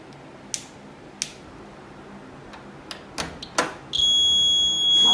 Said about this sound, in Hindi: आज हम डोर अलार्म बनाएंगे।